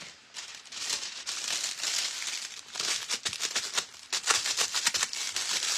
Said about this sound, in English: I'm just crumpling it up.